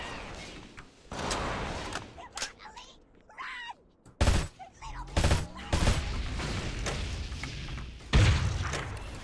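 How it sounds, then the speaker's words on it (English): Rocket launcher fire during a Halo: Custom Edition single-player campaign, heavy booming blasts and thuds scattered irregularly, loud against quieter game noise, with a few separate explosions. "These are efficient uses of a rocket launcher, believe me."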